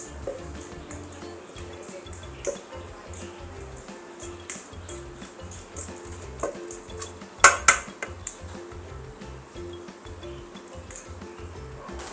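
A salad of blanched wing beans, fresh prawns, pomelo and roasted coconut is mixed in a bowl, with soft wet squishes and light utensil clinks, then a couple of sharp clattering knocks midway.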